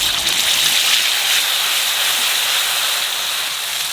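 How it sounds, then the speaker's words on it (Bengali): Cumin seeds and bay leaves sizzling in hot oil: a steady, close, hissing crackle that runs unbroken and loud throughout, with no voices. "তেলের উপর দিয়ে দেবো জিরে, তেজপাতা।"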